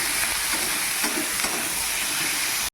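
Chopped onion and capsicum stir-frying in a hot wok (kadai) for a chilli bhetki fish dish: a loud, continuous close-up sizzle and hiss with light stirring, cutting off abruptly at the end.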